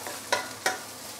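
Spicy five-spice pork cubes get stirred in a frying pan: two short scraping strokes against a soft steady sizzle, close and alone.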